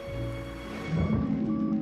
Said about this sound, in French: Moi, je pourrais rester sous la pluie toute la journée.